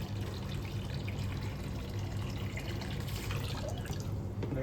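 Water dripping and trickling from an upgraded liquid dispensing machine, a faint, steady wet patter against a quiet background.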